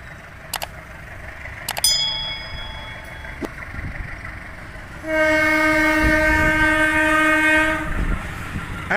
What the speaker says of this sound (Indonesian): Itu kereta lokomotif vintage ya